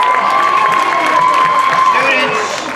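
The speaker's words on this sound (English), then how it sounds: "Let's give him a nice round of applause" Crowd at a school talent show applauding and cheering, a steady dense wash of clapping and children's shouts held at constant loudness throughout, tapering slightly at the end.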